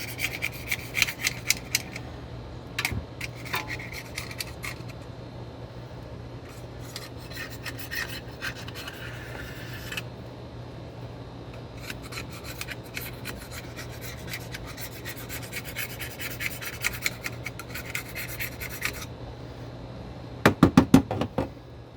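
An oiled razor blade scrapes across a Ford OBS or Super Duty SRW differential cover, a steady run of close, dry rasping strokes in bursts with short pauses, and a few sharp knocks near the end.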